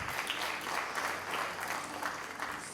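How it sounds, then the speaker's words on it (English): Audience applause at a panel discussion on venture capital in agriculture and climate change, a steady wash of clapping lasting a few seconds, fairly quiet and distant. "Let's have a round of applause on that one."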